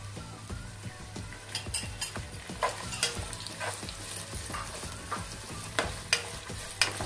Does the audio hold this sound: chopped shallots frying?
yes